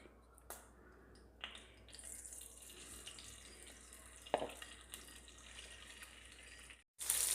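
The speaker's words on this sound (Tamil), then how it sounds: "சிக்கனில் இருக்கிற வாட்டர் கண்டென்ட் தான் இவ்வளோ சத்தம் பண்ணுது, வேறு ஒன்றும் இல்லை." Fresh chicken pieces frying in hot oil for teriyaki chicken, giving a steady, hissing sizzle with scattered sharp pops and crackles, fairly quiet and without voices, ending in a brief gap and then a louder burst of sizzle.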